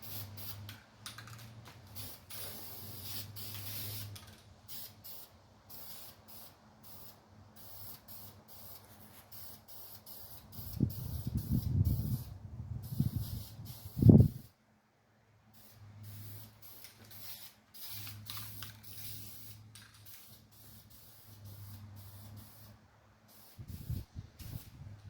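A 1951 Chevy truck engine being spray-painted in thin coats: repeated close hissing bursts from the spray can with short pauses between passes and a sharp knock midway, no talking.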